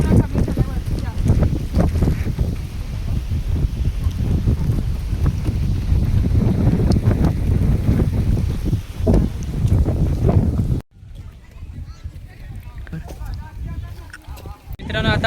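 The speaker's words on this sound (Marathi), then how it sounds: "वाऱ्याचा वेग बघू शकता इकडे किती आहे" Strong, buffeting wind roars loudly into the microphone while trekkers descend Sondai Fort near Murbe Dam in Karjat, then drops abruptly to a quieter, gusty rush for the last few seconds.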